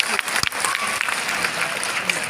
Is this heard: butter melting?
no